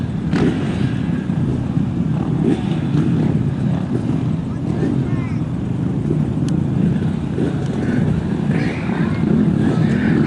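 Flat track motorcycles rev and drone at a speedway before a handicap race, a steady engine roar under a loud announcer's commentary throughout.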